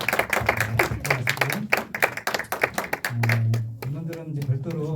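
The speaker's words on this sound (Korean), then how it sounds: "올해 잘 부탁드리는 마음을 담아서 박수" Clapping from a church high-school youth group as new student officers are introduced: a burst of sharp, uneven claps, followed by voices talking.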